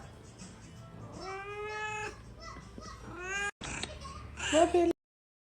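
A grumpy female house cat meows indoors in the morning, giving several drawn-out, wavering meows in a row. The meows are fairly soft and close, followed by a brief louder burst.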